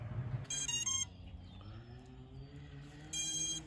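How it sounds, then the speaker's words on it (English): Two bursts of rapid high-pitched electronic beeping from a 6S 5-inch FPV racing quadcopter, one near the start and another at the end, separated by a low steady hum. "I swear, even the beep is more angry on 4S."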